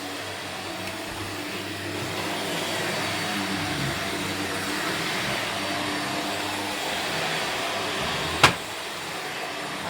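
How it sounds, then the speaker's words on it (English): A Shark Lift-Away vacuum cleaner runs on its high setting in a house hallway, giving a steady, loud whooshing drone with one brief click near the end. "So that was the Shark Lift-Away in action"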